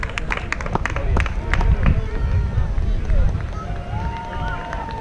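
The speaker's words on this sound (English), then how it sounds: "keep the cheering going" Crowd at a road race finish line during the Market Square Day 10K, cheering and clapping steadily for runners, with an announcer talking over it and footsteps nearby.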